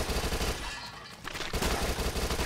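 Rapid submachine gun fire in the top-down zombie shooter Dead Nation, loud bursts of automatic shots with a brief lull in the middle before the firing resumes.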